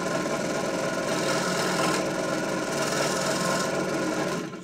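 An electric scroll saw cutting out wooden alphabet letters, its blade buzzing steadily and continuously at close range before stopping abruptly at the end.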